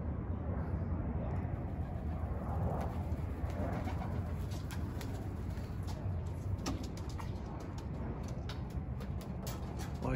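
Soft coos from racing pigeons repeat under a steady outdoor rumble, with faint chirps and distant traffic or aircraft noise throughout.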